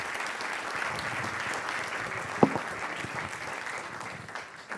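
Audience applause after a short film screening, steady dense clapping from a crowd of moderate size, with one sharp louder clap in the middle and the applause tapering slightly toward the end.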